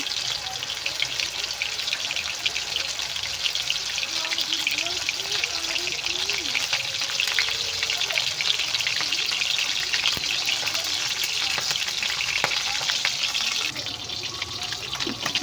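Fish pieces fry in hot oil in a wok, producing a continuous crackling sizzle with a watery spatter that runs steadily throughout, with a voice faintly present.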